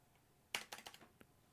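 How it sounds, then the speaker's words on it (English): A quick burst of typing on an old computer keyboard with a coffee-soaked, partly broken key, during a StarCraft 2 coaching session. There are about six or seven crisp, close keystrokes, a pause, then one last tap, with no talking. "Oh, what's wrong with my keyboard?"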